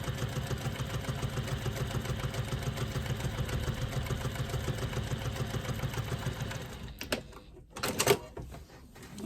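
A sewing machine stitches along a fabric bag strap in a steady, humming rhythm of rapid needle strokes, then stops near the end with a couple of brief handling clunks.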